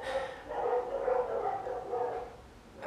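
Dogs in Hungarian front yards barking in a short run of repeated woofs, moderately distant and fairly faint, with no talk over them.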